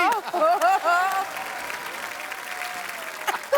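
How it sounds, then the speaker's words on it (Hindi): A studio audience at a comedy talk show breaks into applause after a burst of speech, with a sustained, even clapping from the crowd continuing beneath occasional voices. "ओए तालियां भी।"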